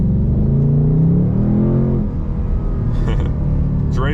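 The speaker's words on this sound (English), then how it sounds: "It had to downshift a few gears there to get into the power though." A 2025 Ford Mustang GT in sport mode gives a loud, close engine rumble as it drops gears, its pitch sliding up through the downshift before easing under the power.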